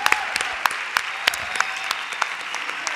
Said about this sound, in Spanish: Bueno, pues un aplauso.